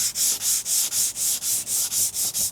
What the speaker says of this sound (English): I'm gonna take my sanding sponge. I think this is like 120 grit. I'm just gonna lightly sand over it